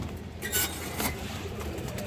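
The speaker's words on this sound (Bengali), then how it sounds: "খুব সুন্দর একটা কবুতর" A female pigeon of an old-type breed gives a couple of faint, brief coos close by over a soft, steady background hum.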